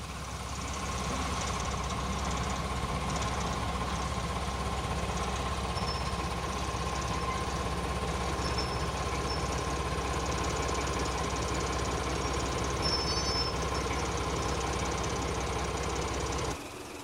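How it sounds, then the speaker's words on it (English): A Class 14 diesel shunting locomotive with a Paxman engine idles steadily close by, giving a continuous loud throb with a knocking, vibrating texture that stops abruptly at the very end. "the Class 14 is a heavy shunting, transfer and trip-working engine with a central driving cab, and she's powered by a Paxman engine"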